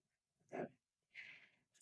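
Dogs at home give a soft whimper, then a longer breathy whine, faint and close with quiet gaps between.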